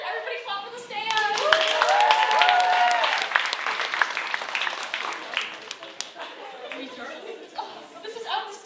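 An audience claps in a big hall at a Vietnamese cultural night show, with applause rising then thinning into scattered claps, cheers, chatter and laughter, and voices over it.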